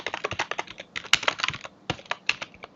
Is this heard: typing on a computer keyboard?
yes